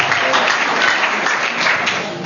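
A church congregation applauds loudly in steady, dense clapping that fills the moment, near and continuous, fading only slightly at the end.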